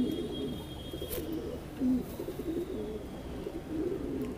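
Madrasi pigeons coo in low, rolling phrases, repeating steadily over a constant background hiss at moderate distance, with no talk.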